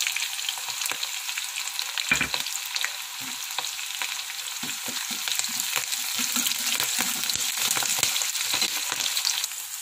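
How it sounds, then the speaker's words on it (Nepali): White sesame seeds fry in a hot pan, a bright continuous sizzle close up, broken by repeated scraping and stirring knocks through the middle and later part. "तिल हाल्दैछु सेतो तिल"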